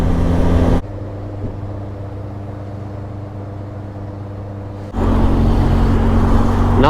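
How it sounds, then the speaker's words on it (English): Steady road and engine drone from inside a car cruising on a busy bank holiday motorway, close and continuous, with the level dropping for a stretch midway before the louder rush returns. "Nice bit of bank holiday motorway driving, look at this, eh?"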